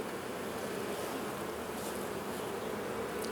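Honey bees swarm around a nuc hive frame and box, giving a steady, dense buzz that stays loud and close throughout with no talking.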